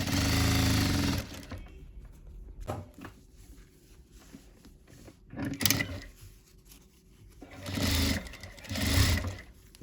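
A sewing machine stitches pattupavadai fabric in short, loud bursts of rapid mechanical chatter separated by quiet pauses, with a few soft clicks and handling sounds between runs.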